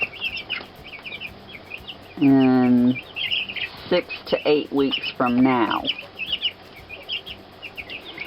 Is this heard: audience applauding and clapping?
no